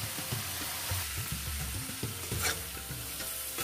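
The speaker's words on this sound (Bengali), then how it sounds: "মশলার সাথে সমস্ত মাছগুলোকে মিশিয়ে নেব। এইভাবে একটুক্ষণ কষাতে হবে" Fish pieces sautéed in spice paste in a pan, with a steady oily sizzle and repeated scraping, stirring strokes of a spatula, close and continuous with no voices.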